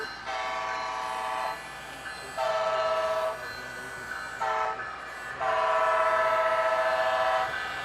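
Two BN freight locomotives' train horns blare in long sustained blasts, several overlapping tones sounding in turns with short gaps between, loud and close, near downtown Seattle.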